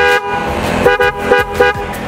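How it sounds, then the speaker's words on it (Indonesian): A Denso horn fitted to a Kawasaki Ninja 250FI motorcycle honks three short, loud, bright toots in close succession over a low background engine rumble. "Kita dengerin klaksonnya ya. Ini klaksonnya dari Denso."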